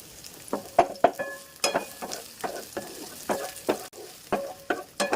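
Garlic and onion sauté in a pan, a soft sizzle punctuated by regular scraping strokes of a spatula, about a dozen fairly close taps and scrapes with no talking.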